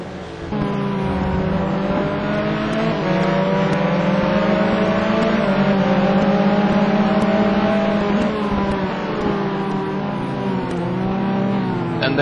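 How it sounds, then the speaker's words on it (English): Ferrari race cars battle at the Mugello circuit in an STC Black Cup race, engines roaring loud and steady with rising and falling revs as they pass close by, continuous for about twelve seconds. "great fighting here, the two Ferraris, Mikael Helm in 16, Paul Bordeaux in 17"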